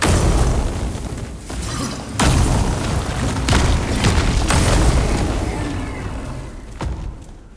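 Bombs thrown at an enemy in the video game No Rest for the Wicked burst in a string of loud, heavy booms, several blasts rolling into one another with sharp onsets and deep rumbling tails.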